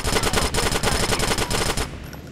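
Rapid bursts of automatic gunfire in Grand Theft Auto gameplay, loud and continuous for nearly two seconds, then abruptly stopping into a quiet tail.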